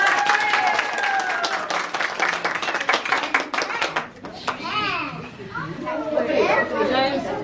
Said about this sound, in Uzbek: mehmonlar olqishlab qo'yamiz